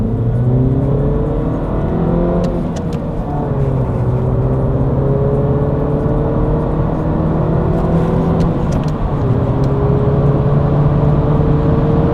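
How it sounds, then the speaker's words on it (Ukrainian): A Mini Cooper S F56 engine revs hard in second gear from inside the cabin, its pitch climbing steadily with a short dip at each shift, loud and continuous with no talking. "Ну давай його спробуємо там з другої передачі крутанути, да?"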